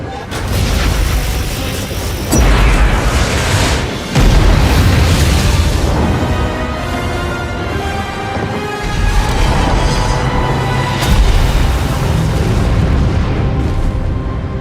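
Cannon fire and heavy explosions fill a video game cinematic, with repeated loud booms and bursts over a dense, continuous battle roar, and some speech mixed in.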